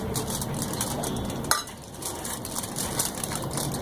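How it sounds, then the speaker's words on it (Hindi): A spoon scrapes and spreads a chicken mixture over oiled butter paper for oil-free toffee chicken kababs, with soft, steady smearing and one sharp clink partway through, no voices. "अब एक इसमें हमने चम्मच उठाया और इस पे फैला देंगे"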